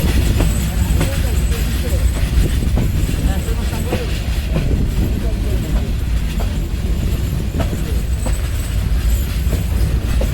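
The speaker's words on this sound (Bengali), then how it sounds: "ট্রেন প্রবেশ করলো শায়স্তাগঞ্জ রেলওয়ে জংশন স্টেশনে" A night train, the Upaban Express, arrives at Shayestaganj railway junction station, with a loud, continuous rumble and rhythmic wheel clatter close by, and occasional squeals over the steady roar.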